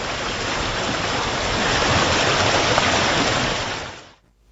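Loud, steady roar of the 133-meter-high waterfall in Kumano, a broad rushing wash of falling water filling the whole stretch before cutting off abruptly near the end.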